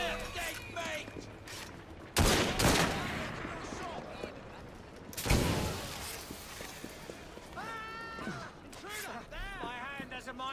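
Gunfire in Assassin's Creed Syndicate, two loud broadband shots a few seconds apart amid a mechanical creaking scene, with voices talking in between.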